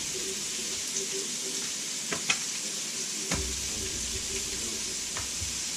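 Sausage sizzles steadily in a pot as its fat renders down for chicken and sausage gumbo, a constant close frying hiss with a few light clinks of stirring.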